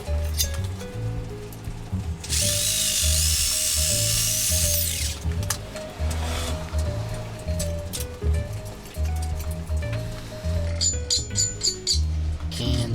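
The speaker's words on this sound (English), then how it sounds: "to do that, we're gonna use a jigsaw" A jigsaw with a metal-cutting blade saws through buckle stock for pedal straps, a loud, buzzing rasp that runs in steady bursts with a brief sharper shriek, near and dominant.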